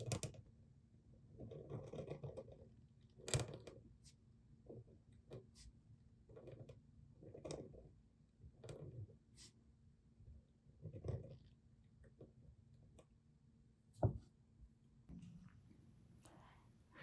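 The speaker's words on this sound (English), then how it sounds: "enjoy the nib sounds, those scratchy sounds on the paper" A calligraphy nib writing copperplate letters scratches faintly on paper in short, separate strokes, with soft clicks and rasps spaced a second or two apart in an otherwise quiet room.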